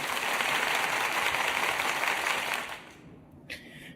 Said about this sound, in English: let me get some applause going